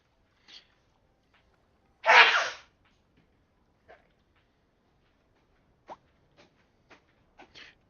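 A single sharp sneeze bursts out close and loud in a quiet room, followed by a few faint scattered clicks and small noises.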